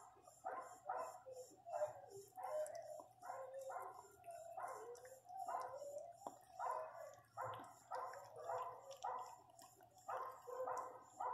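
A pinscher mother dog and her newborn puppy during the birth, heard as a steady series of high, thin whimpers and whining cries that repeat almost without pause. The sounds are quiet and close, with no talking.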